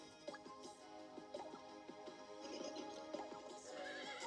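A horse neighs and whinnies repeatedly in the video game Miitopia, in short, shrill bursts over a steady tonal background, with faint hoof-like clops between calls.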